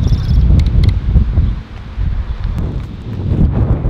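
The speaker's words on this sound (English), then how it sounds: "Super windy" Strong wind buffeting the microphone in loud rumbling gusts that rise and ease, with faint rustling in the background.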